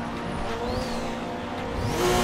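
A JDM street car engine in Assetto Corsa roars loudly and steadily, with gear changes and tire noise mixed in. It carries on with no voices.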